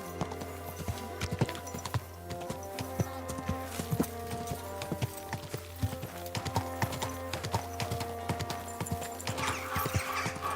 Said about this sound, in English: I'm riding a horse here.